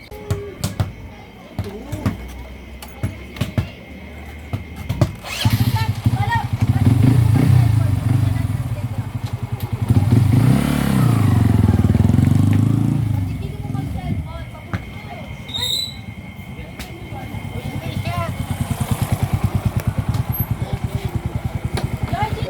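A Bajaj Rouser 135 motorcycle engine with a worn camshaft bearing revs and roars close by, rising to a loud sustained drone mid-clip, then settling back to a rumbling idle with mechanical clatter.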